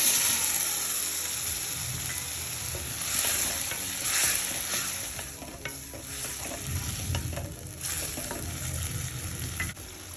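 Mutton liver frying in masala in a pan, a continuous close sizzle with stirring scrapes and clatter rising and falling throughout, no talking.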